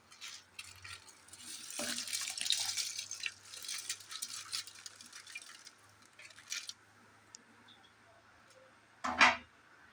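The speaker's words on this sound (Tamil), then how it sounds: "ஊற வச்ச அரிசி இருக்குல்ல அதை போட்டுடலாம்" Soaked rice tipped into a pot of boiling water for chicken biryani gives a soft, splashy watery pour with faint stirring and small knocks, ending in a brief sharp clatter; no one speaks.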